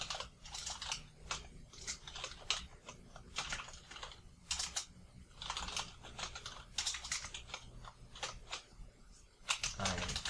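Someone types HTML code on a computer keyboard in dense, quick bursts of key clicks with short pauses between them. The keystrokes are close and continuous for the whole stretch, with no voices.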